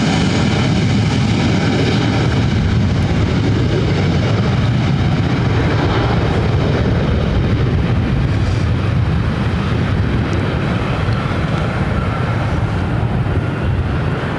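A heavy Lufthansa airliner landing on runway 24 right at LAX makes a loud, continuous, broad engine roar that holds steady throughout with no voices.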